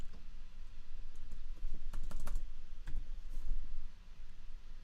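Close-up typing on a computer keyboard, with irregular bursts of quick key clicks and a small flurry of taps in the middle.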